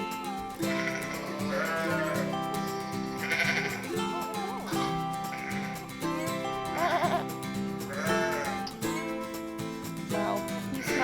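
Sheep on a sheep farm bleat repeatedly in loud, wavering calls that overlap one another, close by and continuous across the scene, with no talk.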